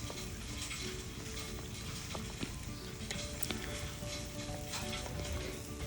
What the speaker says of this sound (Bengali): আগে থাকতে ধুয়ে পানি ঝরিয়ে রাখা খুদগুলোকে দিয়ে খুব ভালোভাবে মশলার সাথে ভুনে নিচ্ছি